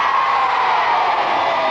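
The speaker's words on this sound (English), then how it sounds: "Give them all a nice big cheer" Crowd cheering and whooping at a 1981 It's a Knockout outdoor team games contest between Whitby, Filey and Hull, a steady loud roar of many voices with no pauses.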